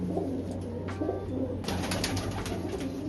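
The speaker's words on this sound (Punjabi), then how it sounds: "ਬਹੁਤ ਸੋਹਣਾ ਕਬੂਤਰ ਆ" A large, fine-looking pigeon at a loft in Begowal gives soft repeated coos, joined by faint bird chirps over a steady low hum.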